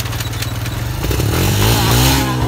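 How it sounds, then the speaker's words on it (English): Dirt bike engine revving up close, a steady throaty idle that climbs into a louder, rising rev and holds there for a couple of seconds, with no talking. "Give me a rev, give me a rev."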